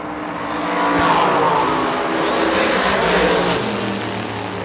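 Drag racing cars, among them an IROC Camaro, launch down the strip with a loud, sustained engine roar that swells and holds across the run, with an announcer talking over it.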